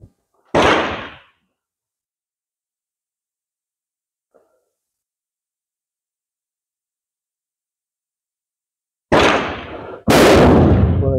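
Dutch Mannlicher rifle fired at an outdoor range: three sharp, loud cracks, one near the start and two close together near the end, separated by a long silence.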